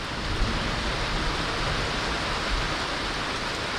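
Heavy rain pours steadily over a countryside homestead, a dense, even hiss with no breaks and no voices.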